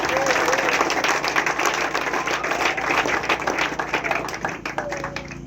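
Church congregation applauding and cheering together for the Lord, a loud, dense, continuous wash of clapping with voices mixed in, fading slightly toward the end.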